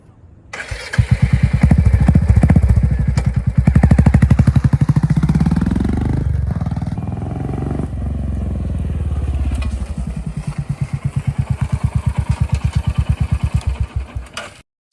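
Royal Enfield Hunter 350 motorcycle fitted with an NGAGE air filter starts up close by and settles into a steady thumping idle, then revs up and down once before dropping back to a rhythmic idle.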